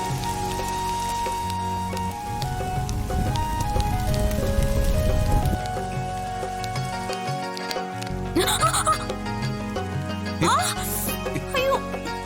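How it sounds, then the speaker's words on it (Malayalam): Rain starts and settles into a steady, dense patter on outdoor surfaces, loud and continuous, with background music and brief voices mixed in. "അയ്യോ, മഴ പിടിക്കുന്നു. ഓടിക്കോ."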